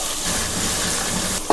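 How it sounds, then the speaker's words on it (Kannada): Large onions sizzle in a hot pan while being fried until brownish for a mushroom gravy, a steady, loud, hissing bed of frying noise with a brief clink near the end. "ಚೆನ್ನಾಗಿ ಈರುಳ್ಳಿನ ಫ್ರೈ ಮಾಡ್ಕೊಳ್ಳೋಣ. ಬ್ರೌನಿಷ್ ಕಲರ್ ಆಗೋವರೆಗೂ"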